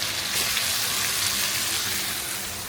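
Chicken pieces frying in oil in a pan for chicken tikka masala, a loud, dense, continuous hissing sizzle close up that holds steady and eases slightly toward the end, with no talking.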